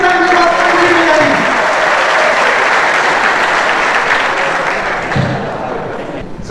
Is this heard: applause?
yes